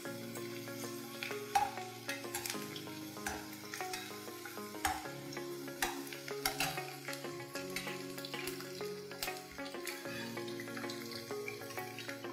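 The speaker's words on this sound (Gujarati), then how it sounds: "સરસ બ્રાઉન થઈ જાય અને ઇવન કુક પણ થઈ જાય ત્યાં સુધી આપણે એને તળવાનું છે" Green peas for matar nimona fry in hot oil until browned, giving a steady, moderate sizzle with occasional clinks of stirring over a faint tonal backing, with no talking.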